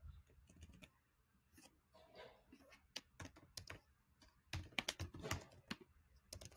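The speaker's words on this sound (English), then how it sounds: "So I would type this up on Amazon" Someone types on a computer keyboard, producing irregular bursts of light clicks with short pauses between runs of keystrokes, fairly quiet and close, with no speech.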